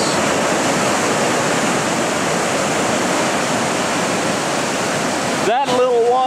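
Roaring Foster Falls waterfall, swollen into a large torrent, pours as a loud, continuous broadband rush close by; near the end a voice briefly speaks over it.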